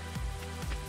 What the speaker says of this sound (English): I like that Robin's just working outdoors in a thunderstorm